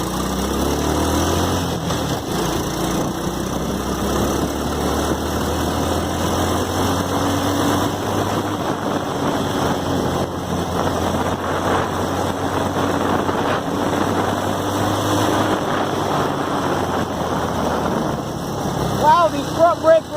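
A modified Chinese quad ATV revving on a road test, its small engine buzzing steadily and loudly for a long stretch with a low drone underneath, and a voice speaking briefly over it.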